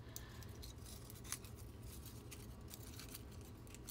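Scissors cutting paper for a journal: faint, quick snipping clicks repeat in an uneven rhythm over a steady low hum, close and quiet with no talking.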